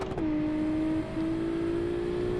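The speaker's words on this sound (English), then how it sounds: "So this sounds like a bit more sensible V6 in a bit less sensible car" A V6 car engine in BeamNG Drive holds a steady, droning rev that dips briefly and then climbs back to a sustained, slightly rising pitch, loud and alone without talk.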